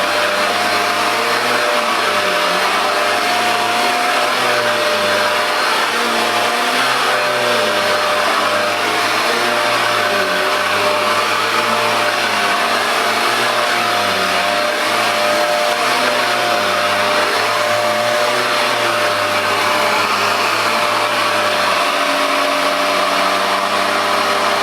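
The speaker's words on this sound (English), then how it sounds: "now when I switch the power switch on, we should get the suction unit motor and the power brush motor as well" A Bissell Powerglide lift-off bagless upright vacuum cleaner runs with its suction motor and power brush on, a loud, steady whine with a wavering low hum throughout, close and continuous with no talking.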